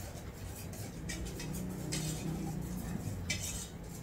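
Flour is stirred into sweet banana porridge in a pot with a whisk-like utensil, giving faint scraping and soft clinking taps at an irregular pace, quiet and close with no talk.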